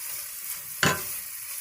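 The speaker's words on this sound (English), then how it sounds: "we actually need to stir a little tiny bit" Onions cooking with sugar in a pan for French onion soup get one short stir, a brief scraping sizzle over a faint, steady background hiss.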